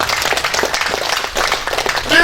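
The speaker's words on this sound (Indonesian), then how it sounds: "Tepuk tangan semuanya." Crowd applause rings out at the grand opening of a Kita Mart shop in Indonesia, dense and fairly loud clapping from many hands lasting a couple of seconds, with voices mixed in.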